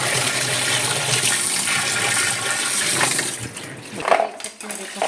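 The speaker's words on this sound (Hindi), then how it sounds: "ये इसमें भी पानी चला दो प्रेशर से, जो होगा वो निकल जाएगा" Water is forced under pressure into a household toilet drain to flush it clean, a steady close rushing gush that eases and splashes unevenly near the end, with a brief voice faintly underneath.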